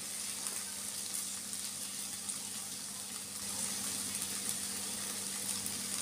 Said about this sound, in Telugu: ఇప్పుడు ఇలా మంచిగా వేగినాక ఇలా బాగా ఫ్రై అవ్వాలి నూనెలో